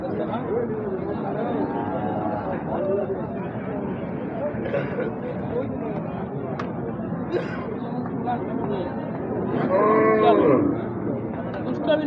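Gir and Sahiwal bulls and other cattle at a busy village livestock market, with moos rising now and then over a steady crowd babble, and people talking nearby throughout.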